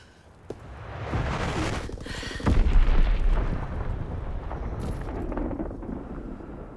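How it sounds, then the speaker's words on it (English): Bombs in Call of Duty WWII burst as a sharp crack followed by rolling, heavy booms that peak loud midway and then settle into a long rumbling tail. "Enemy bomb incoming!"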